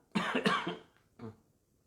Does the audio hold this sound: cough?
yes